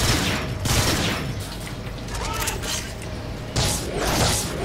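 Supersonic Repeater gunfire in Transformers: Rise of the Dark Spark, a dense, loud burst of rapid energy-weapon shots with mechanical whirring, sustained throughout with brief surges.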